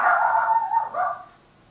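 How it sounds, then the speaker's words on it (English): Dog barking indoors, two close, loud barks in quick succession, then quiet. "And now my dog's barking, seriously?"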